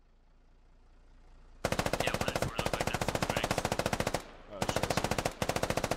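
Loud, rapid machine gun fire from a video game, opening after a quiet lead-in with long sustained bursts of evenly spaced shots and two brief pauses between volleys.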